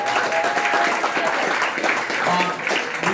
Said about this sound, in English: Jim Breeden, everybody, round of applause.